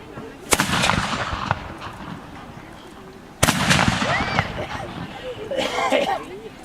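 A matchlock hand gun fires outdoors at a historical demonstration, with two sharp, loud reports a few seconds apart, each trailing off into rumbling echo, while people talk nearby.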